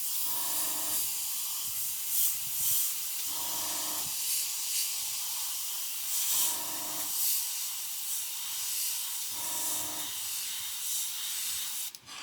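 An airbrush sprays paint in repeated bursts of airy hiss, each lasting a second or two, with short quieter gaps between them. The bursts are close and fairly soft, and no one speaks.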